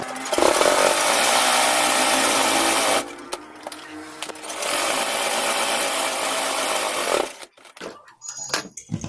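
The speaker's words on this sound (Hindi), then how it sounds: "मैं आपको पहले एक स्लीव सिल के दिखा देती हूँ।" A sewing machine stitches a sleeve onto a boat neck kurti, loud and close, running in two long steady bursts with a short pause between them, then stopping into quieter handling noises.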